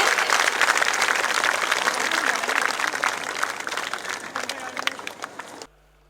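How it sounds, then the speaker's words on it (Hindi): A crowd gives the chief guest strong sustained applause at an inauguration ceremony, dense clapping with some voices mixed in, tapering before cutting off abruptly. "आइए सब तालियों के साथ जोरदार तालियां हो जाए सर के लिए"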